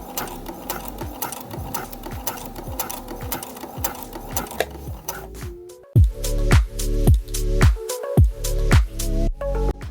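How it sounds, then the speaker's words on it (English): A sewing machine stitches a corset's outer piece to its lining, right sides together, running in fast even bursts of rhythmic needle clatter, then slowing into louder, separate thumping stitches near the end. "going to sew my outer piece and my inner lining facing right sides together, and then do a top stitch along the top"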